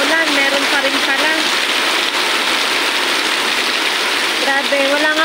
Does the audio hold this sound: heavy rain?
yes